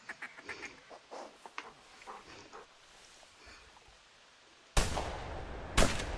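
A small flock of five ducks, including gadwall, flying in over a duck-hunting spot, with faint scattered calls and quacks followed by two sharp, loud shotgun blasts near the end.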